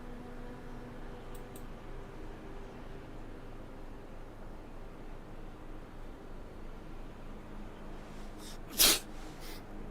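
A player character in the survival game DayZ lets out one sudden, sharp sneeze near the end, loud and close against a quiet, steady background hum.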